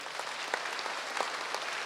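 An audience at a leadership congress claps together, a steady wash of many hands sustained evenly throughout at moderate level with no voices over it.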